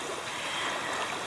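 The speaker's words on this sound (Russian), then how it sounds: "Здесь вот прибой." Waves breaking on a French shoreline, heard as a steady, even rush of surf at moderate distance with no talking over it.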